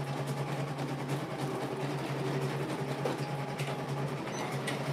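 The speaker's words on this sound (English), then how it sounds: "And I'm going to sew over that tape." A sewing machine runs steadily, stitching through fabric and over a strip of tape laid on it, with a constant mechanical hum and no talk, while pie-related sewing is underway.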